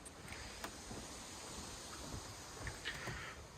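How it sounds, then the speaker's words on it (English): Wind rushing steadily through mountain trees, a constant broad hiss with gentle swells and a few faint knocks, no voices. "just listening to the wind through there"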